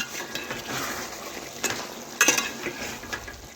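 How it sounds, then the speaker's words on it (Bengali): Chicken and potatoes stirred in a pot produce soft scraping and a faint sizzle, punctuated by a couple of brief metallic clinks of a spoon against the pot, close and fairly quiet. "আমি আবারও ওই একই রকমভাবে এইভাবে নাড়াচাড়া করে নিচ্ছি"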